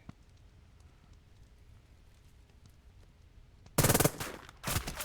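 Gunfire from an enemy rifle squad in the wartime strategy game Burden of Command, at the Meyers Hill battle, arrives as a loud sudden burst of rapid shots, then a brief pause and a second volley, after a quiet stretch of low background rumble.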